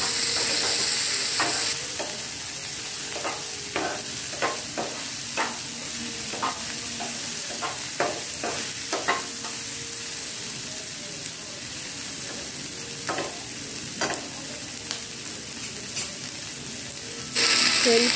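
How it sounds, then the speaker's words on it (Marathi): Onions and tomatoes sizzle steadily in a pan while a spatula stirs them, producing repeated scraping clicks at an uneven rhythm over the constant frying hiss. "आता हे टोमॅटो पण आपण अगदी चांगला असा परतून घेणार आहोत।"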